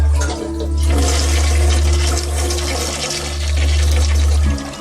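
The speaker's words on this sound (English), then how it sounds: "The toilets used to flush on their own." A toilet flushes in a house, a loud, close rush of swirling water that roars steadily throughout with no one talking.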